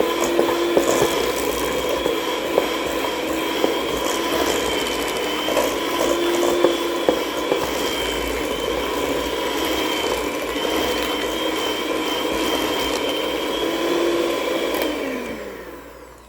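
An electric mixer whirs steadily while two eggs are beaten into chocolate cupcake batter, a constant mechanical drone with faint rattles that fades away at the end.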